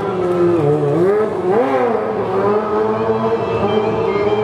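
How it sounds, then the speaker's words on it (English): A motorcycle engine revs up and down in rising and falling swoops during a stunt show at the 2014 International Motorcycle Show in Chicago, loud and close, holding a steady drone between bursts. "Chicago makes some noise for Kyle Sliger as he's jumping and moving all around this motorcycle"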